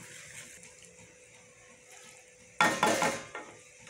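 Chopped coriander stirred into an eggplant and potato curry: quiet background at first, then a burst of spoon scraping and clattering against the pot near the end.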